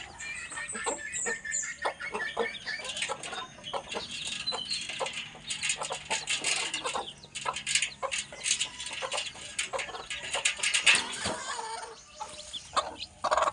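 A mother hen clucks steadily beside her hatching chicks, with soft peeps and rustling scattered through a continuous, fairly close stream of calls.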